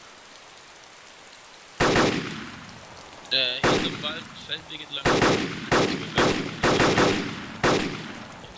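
A series of loud, sharp gunshots in the video game DayZ Origins rings out, spaced roughly every half second after an opening blast, with brief talking between the first shots.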